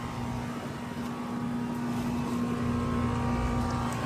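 Two heat pumps run side by side outdoors, a 2018 and a 2025 unit from Goodman and Trane, producing a steady mechanical hum with a constant low tone and fan whoosh that builds slightly, with no talking.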